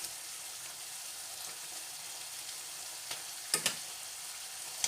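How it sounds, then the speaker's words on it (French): Salted cod (bacalhau) goes into a hot pan for macaroni, and a steady, soft sizzle and frying hiss runs throughout, with a couple of brief sharp clicks of a utensil near the end. "Maintenant, on va incorporer le poisson salé."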